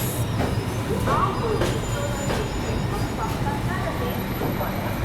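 The Pune–Kanyakumari Express rumbles along as it slows to a halt at a station, with a low, steady rolling drone, faint wheel squeals, and clunks from the carriages.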